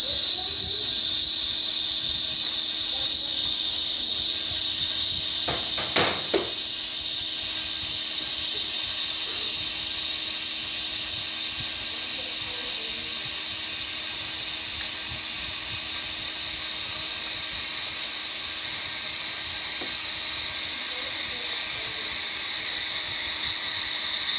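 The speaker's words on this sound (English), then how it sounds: "You can see the steam's working well" A Breville espresso machine's steam wand hisses steadily for the whole stretch while the machine heats toward 150, a loud, continuous bright hiss with a brief clatter near the start.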